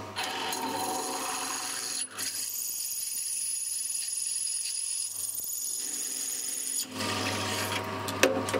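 A pillar drill bores parts out to 9.5 millimetres, giving a steady, close grinding and rasping cut that runs for several seconds, with the motor hum rising as the bit cuts and easing between passes.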